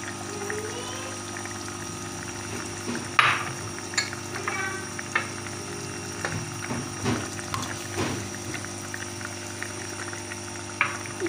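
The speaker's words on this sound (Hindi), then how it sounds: "अब हम इसमें डालेंगे अंडे" Eggs dropped one by one into egg masala in a pan: a steady low sizzle and bubbling runs throughout, broken by several soft thuds and clinks as each egg lands, with no talking.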